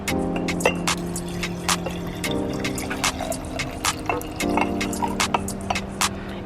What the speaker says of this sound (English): I'm going to add that cup of water